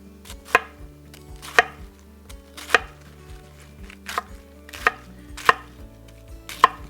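A knife cuts through a quartered cabbage on a cutting board, each blow landing as a sharp, crisp chop at uneven intervals, close by and loud over quiet background music.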